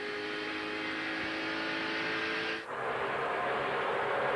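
Continuous roar of NASCAR stock cars racing at the 2002 Budweiser Shootout, a dense broadband engine wash that dips briefly mid-clip and then swells again as the pack comes around the turn.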